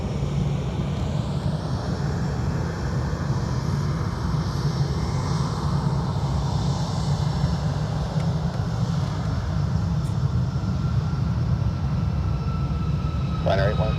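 A Ryanair airliner lands at Dublin Airport with a steady, loud jet roar that holds for the whole stretch, while a voice talks over it.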